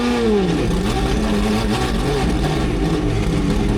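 A 1000 hp naturally aspirated C8 Corvette drift car, built to rev to 10,000 rpm, revs hard and close, its engine note rising and falling in loud, continuous sweeps with no talking over it.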